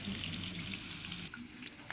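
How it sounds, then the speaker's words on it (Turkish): Continuous crackling sizzle of food frying in hot oil, close up, briefly quieting near the end. "Kızartma yapıyorum sana."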